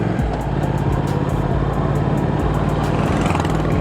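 A Triumph TFC motorcycle pulls away under steady throttle, its engine a loud, continuous close rumble with uneven pulses through the whole stretch.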